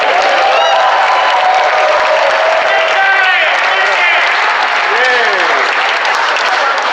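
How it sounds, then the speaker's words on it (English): Loud, sustained applause from a large election-night crowd, with cheering voices rising through it and continuous clapping filling the whole stretch. "Let's give them a round of applause."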